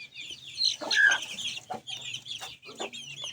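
Chickens clucking on a farm, several birds calling close by in short overlapping bursts with a rooster-like call mixed in, steady and fairly loud.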